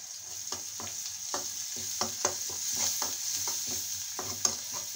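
Chopped onion, garlic and green chilli cooking in a pan with chilli powder, a soft steady sizzle punctuated by a regular series of light stirring scrapes and taps, fairly quiet and with no talking.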